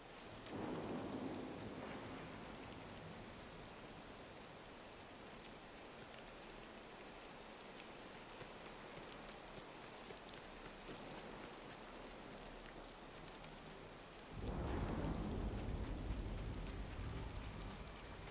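Video game rain falls steadily as a soft continuous hiss in a game world called the Glade, with two rolling thunder rumbles, one near the start and a louder one near the end.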